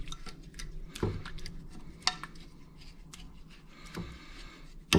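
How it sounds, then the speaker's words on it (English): A slushy lemon granita mixture being mashed, with irregular scraping, crunching scrapes and clinks of a utensil against the icy mixture and its container, close and fairly loud with no talking. "What I'm going to do is basically mash this a bit."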